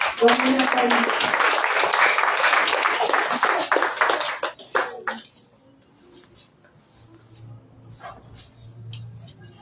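A church congregation at a revival mission breaks into loud, dense applause for about four seconds, then it quickly thins into scattered claps and a quiet room.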